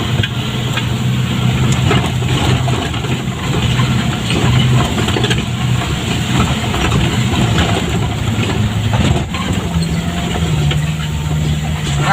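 A truck engine laboring steadily uphill with a heavy load of palm fruit on a rough, steep road, a continuous loud droning rumble with a brief dip near the end.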